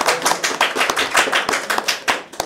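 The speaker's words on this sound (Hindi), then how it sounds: "तालियां बजाएगा" An audience claps at a Bhojpuri film launch ceremony, with a dense, steady patter of many hands and sharper individual claps standing out near the front.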